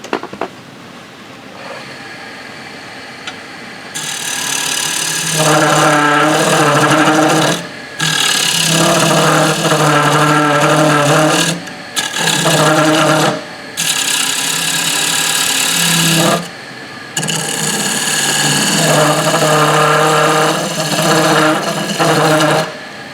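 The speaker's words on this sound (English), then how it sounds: "you seem to get some chatter off the tool rest" A bowl gouge on a wood lathe chatters against the tool rest while cutting a wooden bowl, producing loud, harsh buzzing rattles in repeated bursts with short pauses between cuts.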